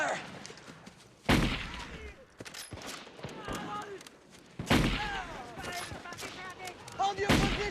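Rifle gunfire in a combat scene: loud, sharp shots and volleys burst out at intervals amid scattered cracks and background commotion, with voices shouting in between.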